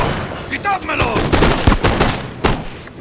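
Infantry ranks firing musket volleys in Napoleon: Total War during the Peninsular Campaign, a rolling crackle of overlapping shots and booms, loud and close, with voices chattering over it.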